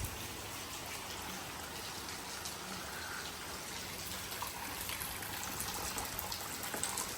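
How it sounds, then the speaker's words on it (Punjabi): Rain falls over paddy fields in Punjab, a soft, faint, steady hiss of drops without a break. "ਮੀਂਹ ਚੱਲਦਾ ਦੇਖੋ"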